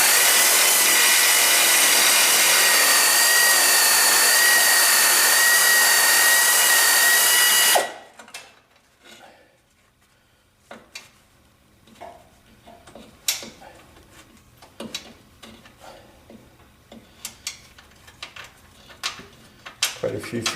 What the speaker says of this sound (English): The 3/8 air ratchet with a 3-inch extension gave me the best shot into that